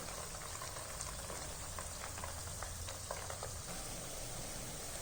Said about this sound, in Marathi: मध्यम गॅसवरती चांगलं लालसर होईपर्यंत आपण याला तळून घेणार आहोत